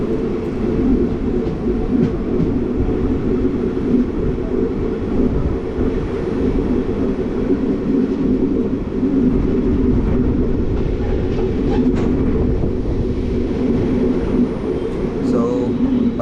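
The Kacheguda to Medak passenger train running between Dayanand Nagar and Safilguda, a steady loud rumble and rattle of carriages with continuous talk over it.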